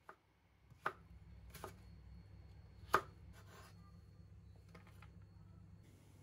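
Carrots chopped into thin strips with a knife on a board: a few distinct, sharp taps spaced irregularly, fairly close, over a low steady background hum.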